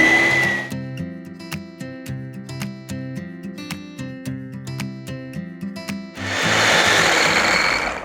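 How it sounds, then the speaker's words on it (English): A small immersion blender frothing cold foam buzzes with a steady whir between short bursts of louder noise at the start and end. "And attach my immersion blender."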